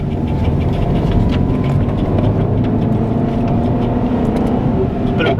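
A Honda Civic daily driver with a manual clutch that pops in third gear drones steadily while driving, a loud, continuous low engine rumble with road noise throughout.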